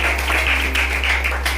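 An audience applauds at a company basic training session, with steady, continuous clapping that stays fairly even in level and is heard alone, with no talking over it.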